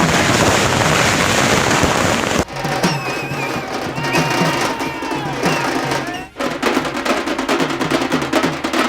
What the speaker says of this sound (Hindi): इंदौर में पटवारी के आवास पर जमकर आतिशबाजी की गई और जश्न मनाया गया